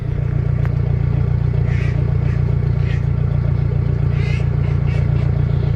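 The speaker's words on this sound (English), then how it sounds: "it's not just the volume, it's the tone of the exhaust." A narrowboat's engine runs steadily on the Norfolk Broads, its exhaust a loud, constant low rumbling throb close by, with faint clatter and light background noise on top and no one talking.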